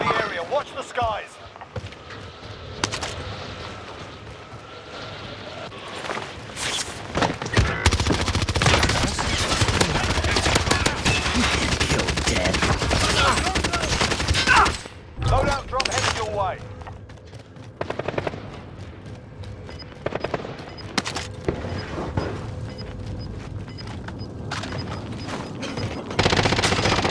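Dense video-game gunfire crackles almost nonstop, with bursts of automatic fire and loud shots over a noisy battle backdrop. Game radio voices and a shouting player are heard through it, and the firing eases briefly midway.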